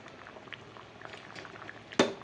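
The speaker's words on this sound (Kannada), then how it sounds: "ನೋಡಿ, ಚೆನ್ನಾಗಿ ಕುದೀತಾ ಇದೆ" Tomato dal bubbling in a pot on the stove, a soft steady simmer of small pops and plops with a louder burst of bubbling near the end.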